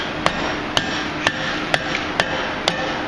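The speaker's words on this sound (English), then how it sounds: "Keep rotating your hammer and your work so you don't create flats." Blacksmith's hammer blows striking hot iron on an anvil while forging a pintle, six sharp ringing strikes at an even, unhurried rhythm, close and loud with no talking.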